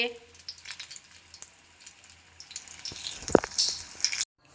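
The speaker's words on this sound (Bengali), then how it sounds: "দেখুন বন্ধুরা কি সুন্দর লঙ্কার চপ হচ্ছে" Chili pakoras, battered chili fritters, frying in hot oil: soft continuous sizzle and crackle with small pops, building louder toward the end before stopping abruptly.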